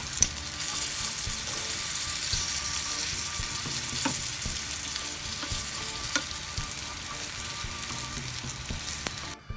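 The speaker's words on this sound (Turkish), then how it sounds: "Bamyalarımız kızarmaya devam ediyor." Okra fries in hot oil for Turkish fried okra, with a dense, steady sizzle and crackle, occasional sharper pops and clinks, close by with no voices.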